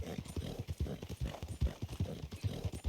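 Steady clip-clop of horse hooves on ground in the Red Dead video game, a rapid, even rhythm of soft thuds continuing throughout at moderate volume.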